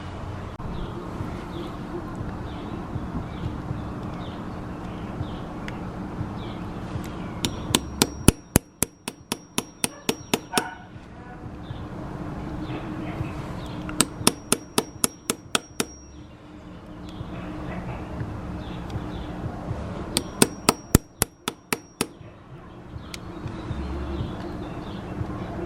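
A flathead screwdriver is tapped with a hammer to unstake the clutch nut on a Yamaha FZ6R motorcycle: three quick bursts of sharp metallic strikes, each a rapid run of about a dozen close, loud blows separated by quieter pauses.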